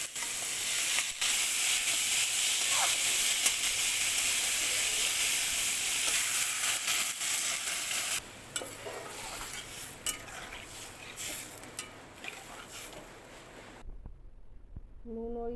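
Potatoes hit hot oil in a pan and sizzle loudly and steadily, with scraping and clinks of a utensil stirring them. The sizzle drops partway through and then cuts out near the end, where a brief voice is heard.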